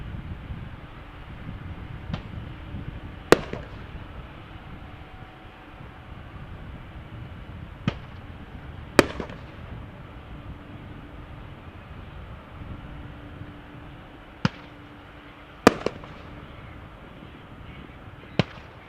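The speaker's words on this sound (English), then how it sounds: "Shoot more fireworks" Fireworks shot off outdoors, giving several sharp, loud bangs spread unevenly over a steady low rumble of background noise.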